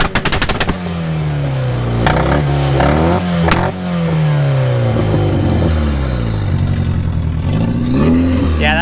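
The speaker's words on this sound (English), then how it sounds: "The two-step. Just going to be loud." Turbocharged 1999 Mitsubishi Eclipse running E85 on two-step launch control, very loud and close, the engine held at high revs with rapid popping bangs and crackles, pitch wavering as the limiter cuts in.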